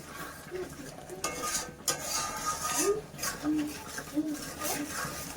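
Cauliflower and prawns stir-fried with salt and turmeric in a pan: soft sizzling under repeated scraping and clinking of a spatula against the pan, close, with a voice speaking over it.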